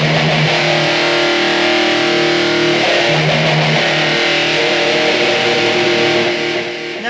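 Distorted electric guitar with heavy reverb, dialed in for a 1985-style rock tone: sustained chords and ringing notes played loud and close, alone with no voices.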